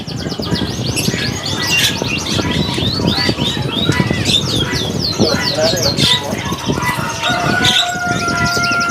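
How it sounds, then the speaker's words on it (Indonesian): AF series canaries sing at a kiosk in the Pramuka bird market, filling the air with dense, overlapping trills, chirps and whistles. Busy market voices and background noise run beneath the song. "Burungnya sudah pada bunyi ataupun gacoran untuk kenari seri AF-nya."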